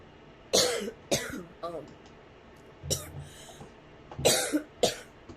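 Mary coughs hoarsely several times, sharp separate bursts with gaps between them, mixed with throat clearing and a few faint clicks in a quiet room.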